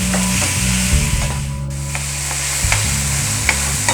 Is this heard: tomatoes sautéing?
yes